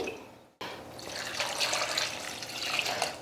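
Water poured from a tap into washed toor dal in a cooking vessel for Tamil-style dal, a steady close splashing stream after a brief silent gap, with no talking.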